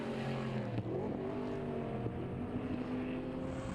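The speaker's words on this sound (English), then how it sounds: "Like Mortimer's car, that thing of Kirk Banan's just sounds insane." Open-class race car engine at Taupo Motorsport Park during a BMW Race Driver Series round, a loud droning roar with shifting pitch as the car passes, continuous and close throughout.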